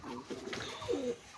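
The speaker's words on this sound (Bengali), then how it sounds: "সাইডে আরও এক পেয়ার টেডি কবুতর আছে" Pakistani Teddy pigeons coo softly at close range, with low throaty murmurs repeating over a steady background hiss and a faint chirp.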